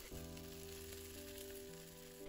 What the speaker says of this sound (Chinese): 继续翻炒均匀，炒至鸡蛋清凝固